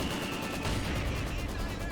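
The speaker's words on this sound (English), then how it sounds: "Mortar does get a good hit there" Battlefield explosions and heavy gunfire fill Company of Heroes 2 combat as a mortar shell lands, with continuous dense rumbling blasts and crackling shots throughout, loud and sustained with no clear gaps.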